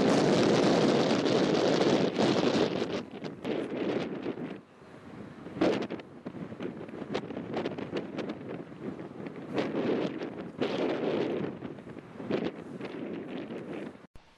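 Strong wind buffets the microphone on the Pearl observation deck in Reykjavik, loud roaring gusts that surge and briefly ease before building again, with no talk.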